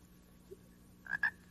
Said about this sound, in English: Croaking is the sound that frogs make